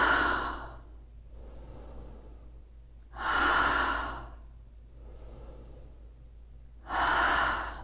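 Slow deliberate breathing during a seated stretching posture, two deep audible exhalations about three and a half seconds apart with softer inhalations between, close and clear in a quiet room.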